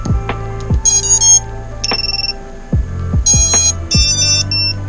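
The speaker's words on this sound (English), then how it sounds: "See if we're going to get our beeps and see if anything blows up." Startup beep sequences from a drone's SZ F7 HD flight controller and SZ60A 6S ESCs on a 4-inch dead cat build, with several rising melodic tone runs and bright chirps interrupted by low motor thumps, heard alone and close.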